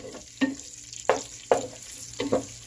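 Pork adobo frying in a pan as the meat browns, with a soft sizzle under several distinct stirring scrapes at irregular intervals, close and moderately loud.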